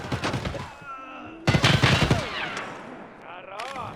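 Gunfire from an SA-58 rifle loaded with M62 ammo in Tarkov Arena, a burst of loud shots cutting in around the middle, mixed with game noise and a talking voice.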